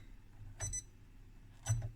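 An APPA 205 true RMS four-digit multimeter gives two short beeps about a second apart, quiet and close against a faint hum.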